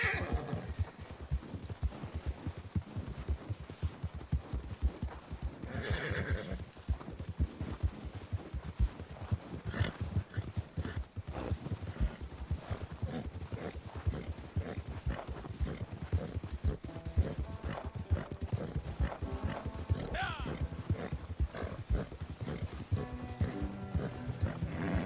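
Rapid hooves clip-clop steadily as a horse gallops through snow in Red Dead Redemption 2, with occasional whinnies and snorts over a busy, constant game soundscape.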